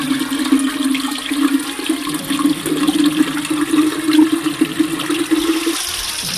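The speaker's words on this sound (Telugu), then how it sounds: "జలధార ఓ ఆకు మీదుగా బిందెలో పడుతుంది" Spring water streaming off a leaf into a pot at the Akasha Ganga sacred spring, a steady continuous splashing pour that runs unbroken until near the end.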